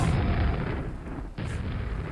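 Grenade launcher blasts from the shooter Quake on its third level, two broad booming explosions in succession, loud and rumbling, with no voices over them.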